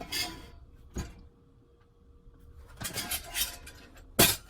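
Light metallic clinks and rattles of a cooking pot being handled, in a few scattered bursts with quiet pauses between.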